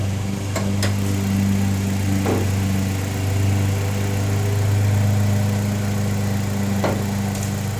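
A car engine idles with the hood open at running temperature, giving a steady, close, continuous hum with a few faint clicks and ticks, and no voices.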